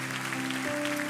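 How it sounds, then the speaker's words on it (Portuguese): A church congregation at a large worship gathering applauds in a broad, continuous wash of clapping, steady and fairly loud, with a sustained musical tone from instruments running beneath it. "Você pode aplaudir ao Senhor Jesus."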